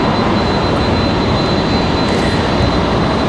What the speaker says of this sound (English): Always love the sound of the 767s.